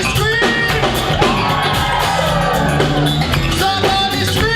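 Concert crowd at BB King's club screaming, whooping and cheering, a dense, loud, continuous roar of many voices filling the whole stretch.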